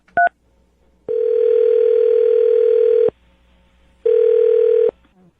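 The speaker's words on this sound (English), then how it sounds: "I'm going to dial his phone number right now." A telephone gives a brief two-tone beep, then a steady dial tone holds for about two seconds, stops, and returns for about a second. The tone is close and clean against near silence.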